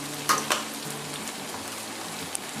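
Boiled rice frying in a pan for veg fried rice with ginger and cumin, a steady soft sizzle with a few sharp crackles and pops near the start, close by and without voices.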